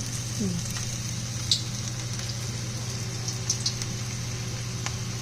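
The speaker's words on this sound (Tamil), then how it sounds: "இதை நல்லா மாவை பெசரிட்டு நல்லா சூடான எண்ணெயில் இதை போட்டு நல்லா மொறுன்னு பொரிச்சு எடுத்துருங்க" Onion pakoda batter frying in hot oil, a steady close sizzle with a constant low hum underneath and a few faint clinks, no voices.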